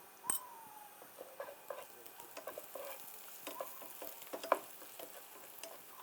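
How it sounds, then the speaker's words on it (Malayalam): Onions frying in a pan with a teaspoon of crushed ginger and garlic, a faint steady sizzle under intermittent scraping stirs and a few light clinks of the spoon. "ഇത് നമ്മുടെ ഉള്ളി ഏകദേശം ഇങ്ങനെ ഫ്രൈ ആയി വന്നിട്ടുണ്ട്."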